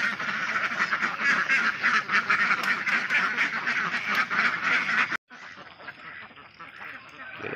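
A dense flock of egg-laying ducks quacks loudly and continuously nearby, the noisy chorus briefly cutting off, then resuming more faintly.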